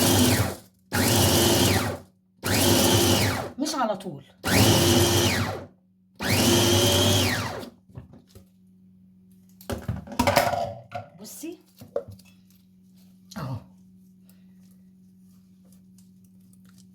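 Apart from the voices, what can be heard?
blender mincing chili peppers for harissa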